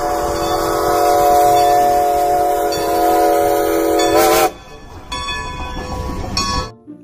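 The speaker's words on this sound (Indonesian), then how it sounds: "Ada kereta uap" A toy steam train sounds a long, steady whistle for about four seconds, then cuts off into quieter mechanical rattling and a second brief whistle burst before stopping.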